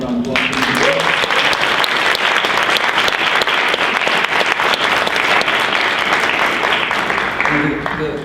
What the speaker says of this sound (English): This is Nikki Giovanni, everybody. Let's give a round of applause.